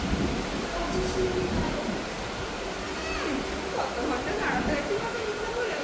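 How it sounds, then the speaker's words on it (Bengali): Steady broadband rumble of a Kolkata metro train running underground, a continuous roar with faint talk and station murmur beneath it. "এবারে মেট্রো"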